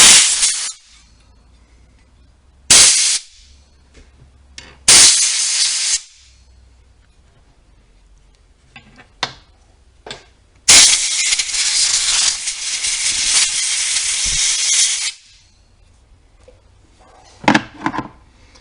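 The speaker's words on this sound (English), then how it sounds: "Now I'm going to try to blow down in this motor." Compressed air blasts dust out of the inside of a fan motor in loud hissing bursts: two short blasts, a longer one, then a sustained four-second rush, with scattered clicks and knocks between them.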